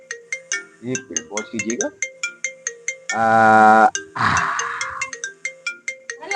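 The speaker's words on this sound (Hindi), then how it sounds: "पत्नी का फोन आ गया, पत्नी का।" A mobile phone ringtone plays in an office, a bright repeating electronic melody pulsing loudly and steadily throughout, while someone talks over it and briefly makes other vocal sounds.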